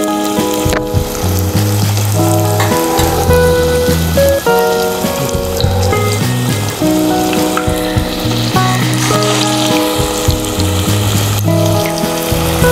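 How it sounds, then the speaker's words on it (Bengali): Chicken nargisi kofta fry in hot oil in a pan over a medium flame. A steady sizzle runs throughout, partly buried under loud background music. "তেল গরম হয়ে গেছে, এখন আমি কোফতাগুলো দিয়ে দিচ্ছি তেলের মধ্যে।"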